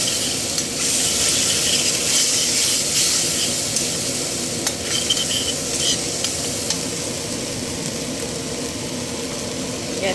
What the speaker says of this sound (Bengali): গ্যাসটা একদম সিমে করে মশলাটা কষাতে হবে।